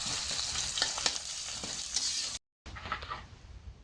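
Sliced onions frying in oil for birista, a continuous close sizzle with stirring clinks, cut by a brief silent gap before the frying resumes more softly.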